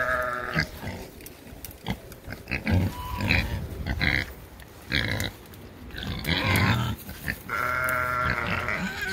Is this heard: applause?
no